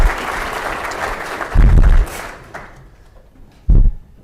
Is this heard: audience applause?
yes